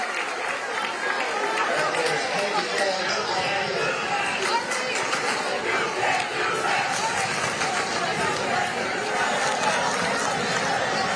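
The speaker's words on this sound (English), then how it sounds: "the fans are applauding here" Crowd noise from high school football fans in the stands at a Friday night McQuaid versus Rush-Henrietta game: a continuous roar of cheering, chatter and clapping, with voices mixed in throughout.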